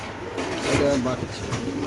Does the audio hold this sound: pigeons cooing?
yes